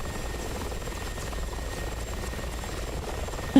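Helicopter rotor and engine drone from DCS World, a steady close-up whine and thrum that holds level throughout, ending with a brief bump.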